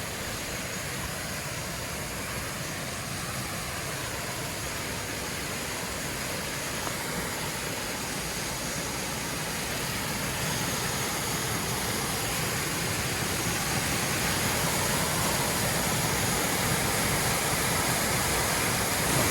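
Steady broadband rush of falling water, constant and fairly loud throughout, with no voices.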